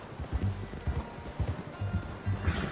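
Horse hooves clip-clop in the video game Red Dead Redemption 2, heard as a steady run of close, rhythmic thuds at a walking pace, with faint rustling behind them.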